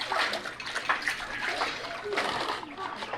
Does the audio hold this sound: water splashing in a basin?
yes